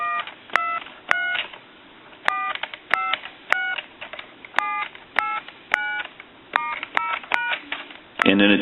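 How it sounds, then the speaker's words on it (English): Touch-tone dialing on an original Spirit of St Louis telephone: a run of clear dial tones in quick groups, each a short crisp double-pitched beep with brief gaps, close and fairly loud, followed by a burst of noise at the very end. "I'll dial through our numbers one more time."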